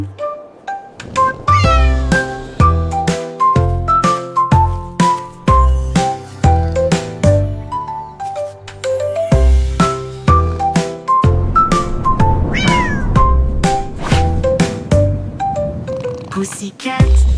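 Cartoon cat meowing repeatedly through a French children's nursery rhyme, bright melodic meows and tinkling chimes over a bouncy musical backing, some sung lines in between.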